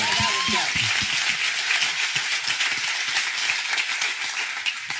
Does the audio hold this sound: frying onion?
no